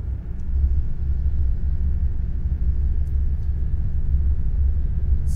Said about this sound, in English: I'm listening for the sound of the truck